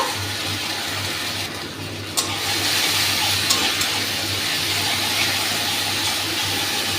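Water is poured into a cooking pan over hot oil holding ground mustard, poppy seed and dried red chili paste for a fish curry. It makes a loud, steady rushing hiss that runs the whole time without a break.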